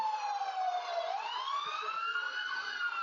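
A fire truck and other emergency vehicle sirens wail loudly and continuously at a homecoming parade in Antlers, the pitch sliding down and then rising again, with no talk over it.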